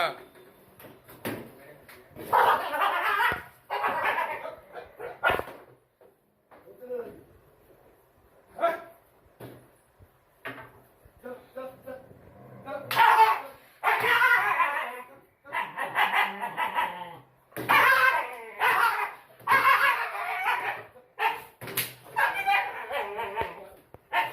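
A dog that has come into a house barks, yips and whimpers in scattered bursts amid excited talk from several people close by, with household clatter in between.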